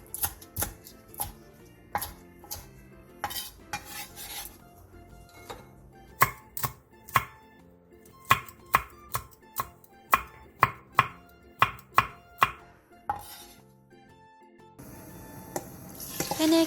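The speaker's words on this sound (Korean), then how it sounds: "대파 3분의 1개, 청양고추 1개, 홍고추 1개를 어슷 썰게 해주세요." A knife slices green onion and chili peppers on a cutting board in a series of crisp, irregular chops, about twenty distinct cuts with short pauses between them. A brief rushing noise follows at the end.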